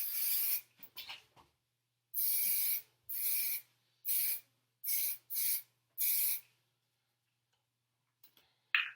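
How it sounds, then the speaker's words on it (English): Hairspray hisses onto hair in a run of short, close bursts, several quick puffs followed by evenly spaced longer sprays, with quiet gaps between them. "Going back to my hairspray because I'm telling you guys, I love some product in my hair."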